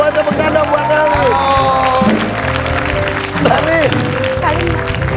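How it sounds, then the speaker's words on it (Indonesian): A television studio audience gives light applause and cheers for a young girl named Elif, the clapping sitting beneath a host's loud, clear talking. "Buat tepuk tangan buat Elif."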